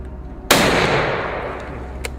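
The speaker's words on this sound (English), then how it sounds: "Gunshots rang out, tearing through the forest silence." Hunters' gunshot in a forest during a wild boar hunt: one loud, sharp blast with a long rolling echo through the trees, then a fainter crack near the end.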